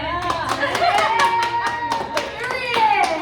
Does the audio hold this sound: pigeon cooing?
no